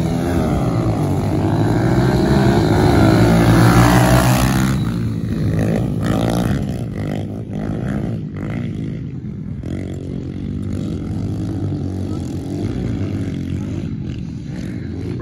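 Kawasaki KLX 110 pit bikes race in a backyard, engines loud and close with a steady high whine that rises in pitch, then drops into choppy revving and gear changes as the bikes move off.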